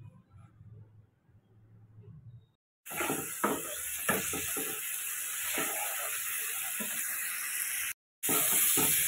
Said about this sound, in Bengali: 1 টেবিল চামচ হলুদ, 1 টেবিল চামচ লঙ্কার গুঁড়ো দিয়ে আমি ভালো করে ভেজে নেব